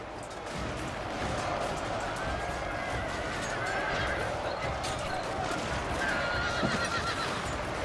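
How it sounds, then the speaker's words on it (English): Horses whinny and gallop in a cavalry clash in the Shogun 2: Fall of the Samurai video game, with loud neighs and clip-clopping hooves over constant battle din. "That horse just literally did like a backflip and landed on his rider."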